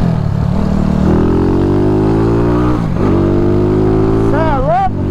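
A Honda CG 94 Today motorcycle with a 240cc engine pulls through town, its close, loud engine note climbing steadily through the revs before a brief dip and another rise.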